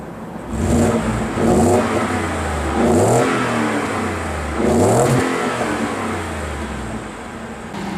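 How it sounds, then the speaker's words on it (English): A 2015 Ford F-150 XLT FX4 pickup truck's engine revs four times, each rising roar easing back to a steady idle between bursts. Loud and close. "go ahead and rev it a little bit so you can see what it sounds like"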